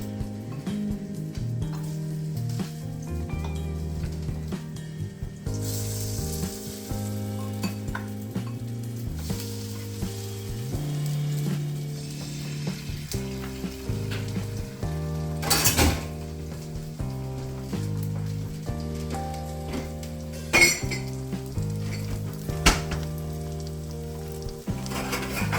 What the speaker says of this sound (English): You definitely want to hear that sizzle.